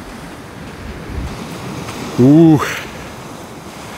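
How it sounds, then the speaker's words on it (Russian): Surf rolling onto a sandy Black Sea beach at Golubitskaya after a storm, a steady wash of waves under wind noise, with a brief loud voice exclamation midway. "море шумит"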